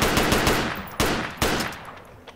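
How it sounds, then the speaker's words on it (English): Single rifle shots in Project Reality crack out close and loud, about three sharp reports each followed by a decaying echo tail. "Wow, I shot him just with single shots from the hip."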